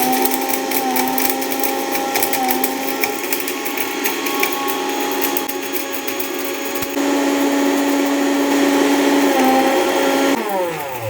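A mixer grinder whirs steadily as it grinds cinnamon, cloves, black pepper and cumin into powder, a loud continuous motor drone with a slight pitch shift partway through before it winds down at the end.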